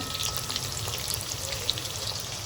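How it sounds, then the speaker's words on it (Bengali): Chicken pieces frying in a pan for chilli chicken, a steady close hiss of sizzling oil with small crackling pops over the short stretch. "চিকেন ফ্রাই করা হচ্ছে, অর্থাৎ চিলি চিকেন বানানো হবে।"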